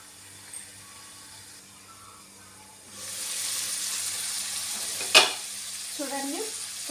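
Amaranth leaves are frying in a pan for thotakura fry. A quiet hum gives way to a steady, close sizzle, then a sharp scrape of stirring and a few softer clinks near the end.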